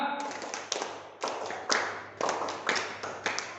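An audience performing the Indonesian scout clap (tepuk pramuka), a rhythmic pattern of sharp group claps in uneven bursts, some ragged and unsynchronized, with a voice briefly leading at the start, in a church gathering.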